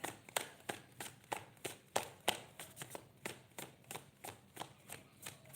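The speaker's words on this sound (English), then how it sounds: "So let's shuffle this." A deck of tarot cards being shuffled up close, a steady run of about twenty crisp, papery snaps and taps in even rhythm, with no talk over it.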